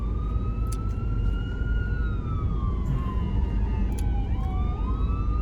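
An ambulance siren wails over steady traffic and road noise, its rising and falling tone sweeping continuously and bending in pitch as the vehicle moves past at moderate distance.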